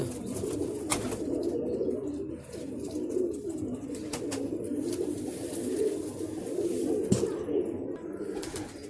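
Flying pigeons at a Punjabi rooftop loft give a continuous low cooing murmur throughout, with a few sharp clicks and knocks standing out above it.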